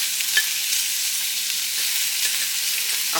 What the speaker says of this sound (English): Now I just had a little bit of oil in my pan, so I could kind of get a little bit of a crisp on this.